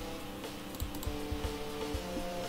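Short custom template loop plays a fast chiptune-style melody over punchy, regularly spaced drum hits, steady and moderately loud with no voices.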